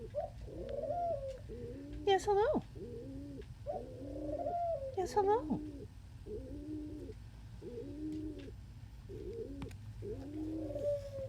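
An indoor pet bird, a dove-like cooer nesting under a blanket, repeats soft rhythmic coos close by, about a dozen in a steady pattern, while a person speaks briefly to it in between.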